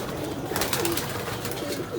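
Pigeons at their cage on their first day of flying coo and flutter, with soft bird calls and a brief wingbeat-like rustle over steady outdoor background.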